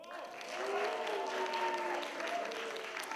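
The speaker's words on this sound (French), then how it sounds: "Et si vous vous mettiez tous en même temps à nous applaudir et nous huer" A festival comedy audience claps while voices boo and jeer at once, a mix of steady applause and drawn-out vocal tones of moderate loudness.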